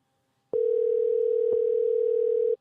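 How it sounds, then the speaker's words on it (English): An unanswered phone call's ringback sounds as one steady electronic tone lasting about two seconds after a brief silence, clean and alone with no voices. "Y'all should be able to hear this phone call."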